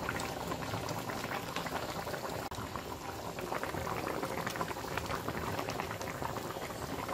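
Eggplant curry seasoned with turmeric boils in a pot, with a steady bubbling and popping that continues evenly throughout.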